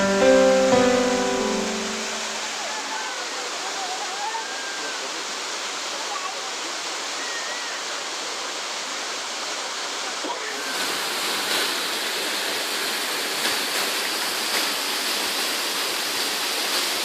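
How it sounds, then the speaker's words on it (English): A famous waterfall where the water spreads and falls in tiny shards gives off a steady, broad rushing hiss that carries on without a break, with a brief burst of other sound at the very start. "it's famous for the way the water spreads and falls in tiny little shards"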